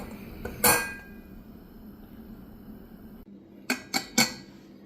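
Metal clinks against metal: one sharp clank, then after a pause three quick knocks close by, as the weight is set onto a steaming pressure cooker lid.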